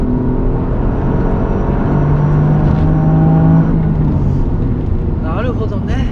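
A BLITZ-tuned Toyota GR Yaris cruises with a steady engine hum and road rumble inside the cabin, holding even throughout while people talk over it.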